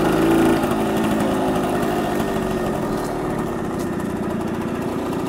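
A 1966 Harley-Davidson Aermacchi M50S motorcycle engine idles close by, a loud steady buzzing putter of the small single-cylinder with no talking.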